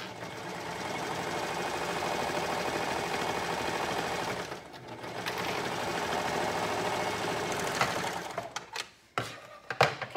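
A sewing machine stitches a side seam with a steady, fast mechanical whir that runs for several seconds, pauses briefly, resumes, then breaks into short stop-start bursts near the end.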